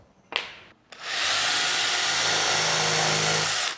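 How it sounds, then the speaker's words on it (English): Power drill boring a countersunk pilot hole into wood for a simple bench, a short burst first, then a sustained steady whine of the motor running close and loud for several seconds before stopping. "So we'll put a small pilot with a countersink, then I'll enlarge that hole"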